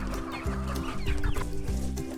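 Several chickens cluck steadily and close by, overlapping low calls in a busy, continuous chorus.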